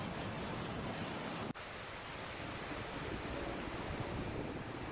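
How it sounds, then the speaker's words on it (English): Fast-moving floodwater from the Texas floods rushes as a continuous broadband roar, steady and fairly distant, with no voices over it. "Look how fast the water's moving."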